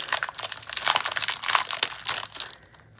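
Plastic wrapping crinkles and crumples in bursts as an Echo Park Paper Co. Valentine's Day scrapbooking paper pack is opened up close, fading out toward the end with no talking.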